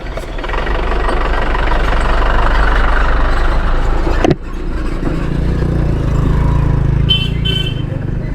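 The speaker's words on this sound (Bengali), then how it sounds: "পানির ট্যাঙ্কি নিয়ে আসতেছে" A heavy water tanker truck engine rumbles loudly and steadily nearby on a badly broken road, with a sudden knock midway before the low drone carries on.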